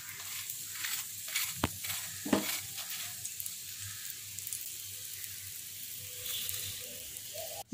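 Cauliflower paratha fries in oil on a hot tawa with a soft, steady sizzle, broken by a couple of sharp clicks and brief scraping sounds, close and quiet with no voices.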